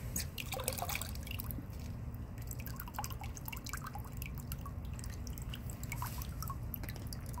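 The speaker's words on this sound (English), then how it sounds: "I'm gonna turn that water on like that, cause it's gonna freeze." An outdoor water tap left on in freezing weather drips steadily, a quick irregular patter of close drops over a low background rumble, with no talking.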